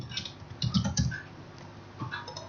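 Keys tapped on a computer keyboard while drafting in SketchUp, a short burst of clustered clicks at close range followed by a few sparse, quieter taps, with no talking.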